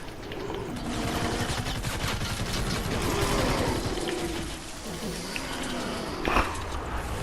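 Gunfire in the Fortnite game mode Save the World during a zombie fight, heard as a dense rapid burst of automatic shots with mechanical clatter, fading out, while a voice talks over it.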